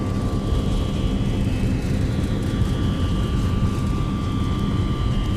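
Boeing 757 jet engines spooled to takeoff thrust in a flight simulator, a steady, loud roar with a constant whine, unbroken throughout the takeoff roll.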